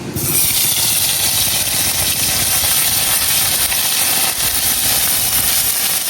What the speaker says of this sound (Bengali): এখন মাছ ভাজার তেলের মধ্যে দিয়ে দেন পেঁয়াজ বাটা।